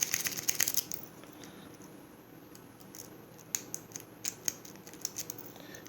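A rake pick scrapes and rocks across the pins inside an Al Mont "ReyKey" padlock, a quick burst of faint metallic clicking at first, followed by quieter scraping and scattered sharp ticks.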